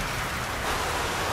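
Heavy rain pouring down steadily outdoors, a dense, even roar of drops hitting surfaces with no breaks and no voices.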